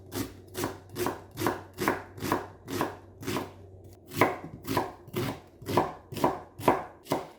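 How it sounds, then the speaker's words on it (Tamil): A knife chops a large white onion on a board in about a dozen crisp, evenly spaced strokes, close and clear, with no talking. "ஒரு பெரிய வெங்காயம், அதையும் இப்போ கட் பண்ணி போடுவோம்."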